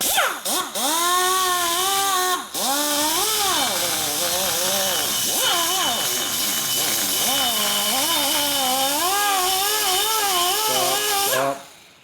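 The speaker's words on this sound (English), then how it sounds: "No, you were grinding it. You moved that cutter right up that hill." A rotary cutter grinds metal during a motorcycle transmission rebuild on a 2004 Harley FLHT Twin Cam touring bike, a loud, steady high-pitched whine whose pitch repeatedly rises and dips as the tool loads and unloads, with brief breaks.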